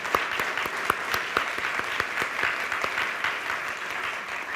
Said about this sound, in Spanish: ¿Qué le parece si entregamos un fuerte aplauso de gloria y gratitud al Señor?